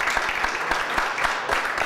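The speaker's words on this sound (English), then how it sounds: "How about a big round of applause for our military?" A comedy show audience applauds for the military, a brief, steady wash of clapping with a few sharper individual claps standing out.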